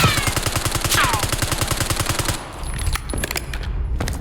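Rapid automatic gunfire in Call of Duty Warzone, a loud sustained burst of evenly spaced shots with a whizzing sound partway through, ending abruptly and followed by a few scattered impacts and clatter.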